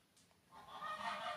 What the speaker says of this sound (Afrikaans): En dis die ganse wat julle nou hoor.